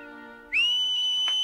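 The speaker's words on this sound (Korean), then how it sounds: "이 휘파람 소리가 우리끼리의 신호예요." A single clear, high whistle used as a secret signal rings out suddenly after a quieter tonal passage and holds steady and loud, slightly wavering near its end.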